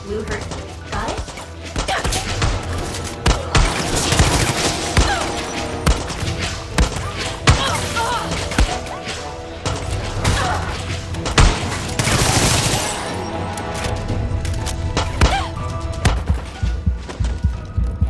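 Color-shooting resin gun firing in Far Cry 6, loud repeated sharp bursts and thumps in rapid, uneven volleys, dense and continuous throughout with a busy game soundscape beneath.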